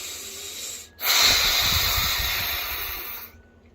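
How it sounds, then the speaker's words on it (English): A deep breath drawn in and released, a close, breathy hiss that swells suddenly and then holds steady for a couple of seconds before cutting off. "Deep breath. Deeper breath."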